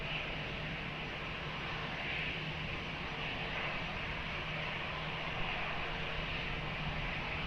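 An airplane at Lisbon Airport gives a steady, broadband engine roar that holds at an even level for the whole stretch, with no talk over it.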